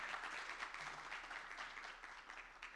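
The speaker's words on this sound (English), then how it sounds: "A round of applause for our first three young systems leaders" An audience gives a round of applause for young systems leaders at a leadership event, a faint, even patter of clapping heard from a distance.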